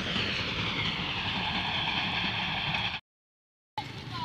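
A train passes at about 60 km/h in a loud, steady rumbling roar with a metallic hiss that cuts off abruptly, then resumes briefly.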